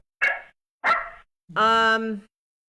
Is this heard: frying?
no